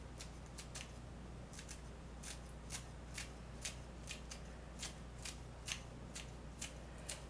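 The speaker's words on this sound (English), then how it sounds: "I'm going to cut the chives and mix it into the mayonnaise." Kitchen scissors snipping chives, a series of crisp, evenly spaced cuts repeating roughly every half second, close and fairly quiet over a low steady background hum.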